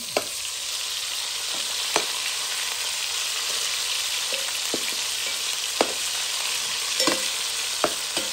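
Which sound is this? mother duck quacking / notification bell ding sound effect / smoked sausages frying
smoked sausages frying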